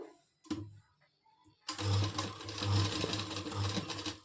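An electric sewing machine stitches kurti fabric with a half-inch margin. A short burst comes first, then after a pause a longer near, steady run of rapid mechanical stitching, with no talk over it.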